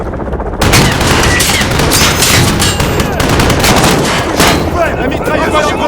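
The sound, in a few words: machine gun fire in Call of Duty Modern Warfare video game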